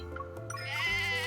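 A sheep bleats loudly and close, a wavering drawn-out cry that rises and holds, following a couple of shorter calls.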